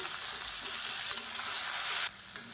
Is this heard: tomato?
yes